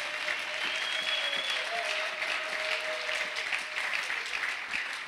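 A church congregation applauds steadily for several seconds, a dense, continuous wash of clapping filling the hall at an even level throughout.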